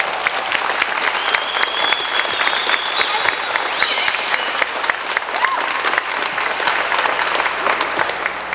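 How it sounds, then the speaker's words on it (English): Steady, dense applause from a crowd at a roller rink reunion carries on loud and unbroken throughout, with a few faint voices mixed in. "Let's give them all a round of applause."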